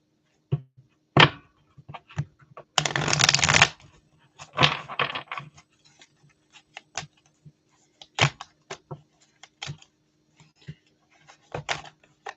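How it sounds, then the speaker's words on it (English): Cards being shuffled close by: quick riffling bursts and sharp taps, separated by short pauses. "Bear with me. I'm giving a good shuffle."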